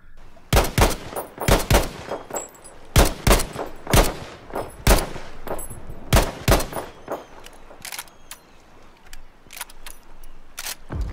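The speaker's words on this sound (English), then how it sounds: "Now the GEWEHR 43 is obviously a pretty famous German rifle, semi-automatic rifle." A Gewehr 43 German semi-automatic rifle in a video game fires repeated sharp, loud shots in quick irregular bursts, each crack ringing close and alone with brief gaps between groups of rounds.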